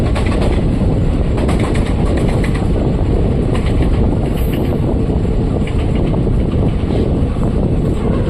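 A night passenger train runs between Bengaluru and Mysuru, its loud, steady rumble and rattling carriages filling the whole stretch with continuous broadband noise and some wind buffeting at the microphone.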